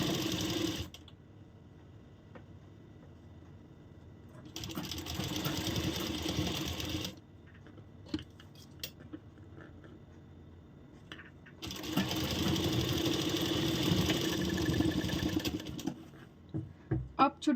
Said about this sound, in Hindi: इसी तरह रखते हुए पूरे पे सिलाई लगाएंगे